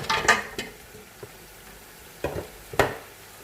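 Mutton trotters (paya) being fried in a pot, heard as a few sharp stirring scrapes and sizzling bursts with quiet gaps between, fairly close and moderately loud, with no talking.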